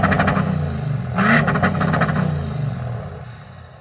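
A 2019 Ford F250 diesel pickup, fitted with a 6.0 and a limiter, sits idling close by with a low rumbling clatter and a brief rev in the middle before settling back.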